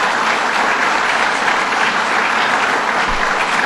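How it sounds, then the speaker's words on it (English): An audience at a bill-signing event in Buffalo breaks into dense, sustained applause, a continuous wash of many hands clapping that holds steady at full volume throughout. "So let's give them a round of applause."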